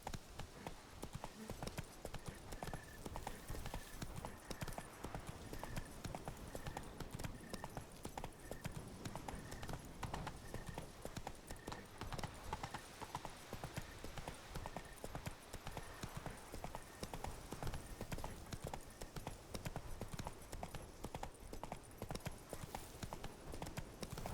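Roach, a horse in a video game, trots with steady clip-clopping hooves throughout, even and moderately quiet, with faint talk and a soft repeating tone in the background.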